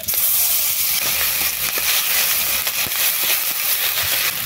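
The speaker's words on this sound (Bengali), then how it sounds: "এইখানে মশলা কষাবো" Spices, among them nigella seeds, chilli powder, turmeric and a ginger, mustard and poppy seed paste, sautéing in a hot pan with fish, giving a loud, steady sizzling hiss that runs unbroken and close.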